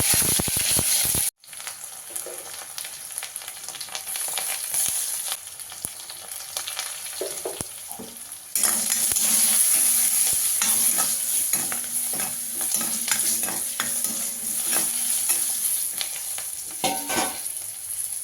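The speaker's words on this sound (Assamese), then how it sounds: "এতিয়া মই ভাজিব লৈছোঁ। প্ৰথমতে পিঁয়াজ দি লৈছোঁ।" Onions sizzle in hot oil in a pan, a continuous frying crackle broken by repeated scraping stirs, growing louder and denser partway through.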